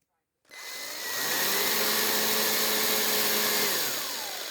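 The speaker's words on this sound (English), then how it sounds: "I run them down fairly fast with the drill." A strong power drill runs screws fairly fast into a plastic Associated MT8 RC center differential, starting abruptly and holding one close, steady high whine for several seconds.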